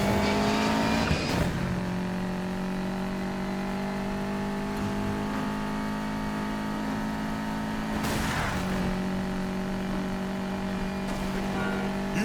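Cars race in the Need for Speed Payback video game, a continuous loud engine drone with shifting pitch and brief swells as gears change, running steadily with no talking.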